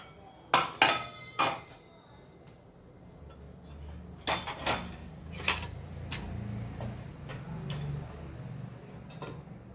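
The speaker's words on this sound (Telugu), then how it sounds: "ఇప్పుడు ఈ పప్పులు, ఫ్లాక్స్ సీడ్స్, నువ్వులు ఇవి వేయించుకోవాలి." A utensil clinks and scrapes in a pan while lentils, flax seeds and sesame seeds dry-roast. There are a few sharp metallic taps near the start and more in the middle, over a soft, quiet background.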